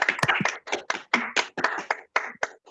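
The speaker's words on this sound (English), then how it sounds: "It's been so long since I've heard applause." Scattered clapping from online participants after unmuting at the close of a sustainability research event, uneven bursts from a few people rather than a full crowd, moderately close and without talk.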